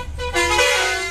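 A car horn honks on a highway between Durg and Bhandara in India, a steady blaring tone that swells after a brief softer start and holds for about a second, close and loud over road noise.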